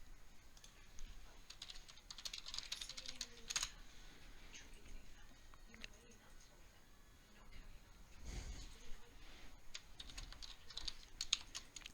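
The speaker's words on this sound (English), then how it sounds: "I'm going to be quite mischievous and type in a question rather than click an option he's given" Keys tapped on a computer keyboard in irregular bursts as a question is typed into a chatbot, quiet and fairly close, with short pauses between clusters of clicks.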